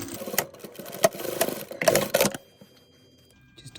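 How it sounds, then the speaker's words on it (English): A sewing machine runs stabilising backward and forward stitches on denim jeans, short loud bursts of rapid mechanical chatter broken by pauses, close and without speech. "I'm just going to do some stabilising stitches on the outside."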